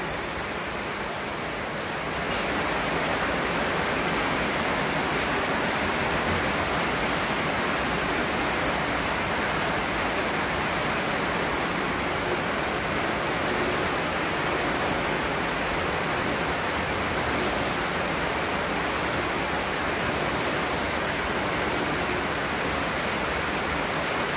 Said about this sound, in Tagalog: dumadami na ng malakas na ulan